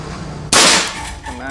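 A single sharp shot from a Predator 460cc full-CNC PCP air rifle during an accuracy test, a loud close crack with a short decaying tail and low room noise around it.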